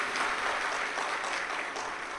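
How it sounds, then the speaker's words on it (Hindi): Audience at a Shiv Mahapuran katha clapping together in a sustained, dense burst of applause, steady and fairly distant, with no talk over it. "एक बार जोरदार ताली बजाकर साथ ही पाए"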